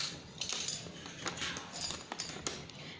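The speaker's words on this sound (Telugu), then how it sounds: "ఈ విధంగా ఒక స్పూన్ తీసుకొని స్పూన్తో మొత్తం ఇలా అలోవెరాని తీసుకోండి" A spoon scraping and scooping gel from a peeled aloe vera leaf, soft close scrapes and light metallic clinks in an irregular rhythm, fairly quiet.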